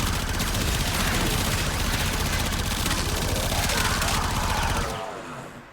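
A full-auto rifle in Warframe fires a long unbroken stream of rapid shots, loud and dense, then cuts off abruptly near the end, leaving a fading tail.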